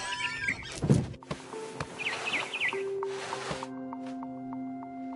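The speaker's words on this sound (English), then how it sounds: "Then I heard chirping outside my window. It was a barn swallow going back to her nest." Barn swallow chirping in the video game What Remains of Edith Finch, a brief run of quick, wavering chirps set among soft thumps, a squeal and sustained tonal game sounds, moderately quiet.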